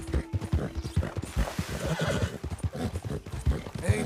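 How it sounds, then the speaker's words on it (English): Horse in Red Dead Redemption 2 clip-clopping with steady rhythmic hoofbeats close by, breaking into an audible whinny partway through, with no speech. "Who's a good horse?"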